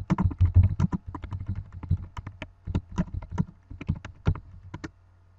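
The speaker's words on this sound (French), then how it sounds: "Excusez-moi pour le bruit du clavier." Rapid clicking of keys on a computer keyboard, close and crisp, in irregular bursts of typing before stopping.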